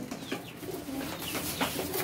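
A group of about seventeen pigeons coos softly and continuously close by, overlapping throaty calls with a steady background hum.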